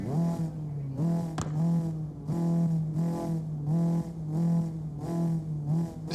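A race car engine during qualifying throttles up hard and loud and close, climbing in pitch again and again with short breaks between each surge as it revs.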